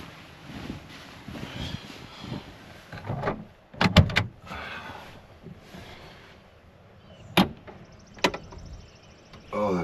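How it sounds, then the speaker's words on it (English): Van doors swing and slide open on a camping van parked in rain showers, giving a few sharp clunks and a brief rattle against quiet, breezy background noise. "I gotta get the doors open."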